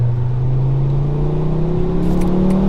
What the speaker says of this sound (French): j'entends le turbo siffler